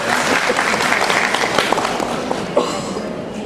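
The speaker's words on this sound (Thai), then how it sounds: "ขอเสียงปรบมือต้อนรับท่านอีกครั้งนึงค่ะ" A school audience claps to welcome a speaker at an education meeting, a brief dense burst of applause with a few louder individual claps standing out, tapering slightly at the end.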